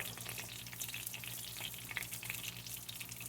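Steak sizzles and spits steadily in hot beef tallow, a continuous crackling fry with small pops, close up and fairly quiet, its juices seeming to boil out before it browns.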